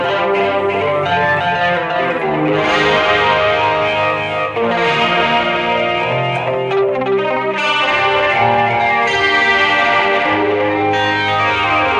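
Sustained electric guitar chords and notes in a signature-style tone ring out with a lush, echoing delay that trails and overlaps, loud and continuous throughout.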